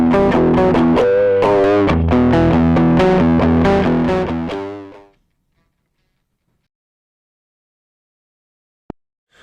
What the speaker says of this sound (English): There you can hear quite a fuller sound because we adjusted the drive high pass to be a bit lower